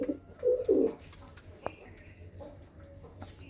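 Pigeons of various breeds in a Punjab fancier's loft coo in soft, low bursts, a few close calls early then quieter cooing, with a brief clack and people talking in the background.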